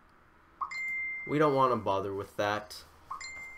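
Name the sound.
mobile phone notification beeps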